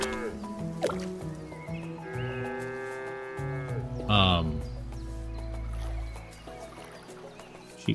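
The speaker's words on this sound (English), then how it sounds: "That cow." A cow moos in the SCHiM video game, a low drawn-out call rising near the middle over a bed of soft game music, with a person talking briefly around it.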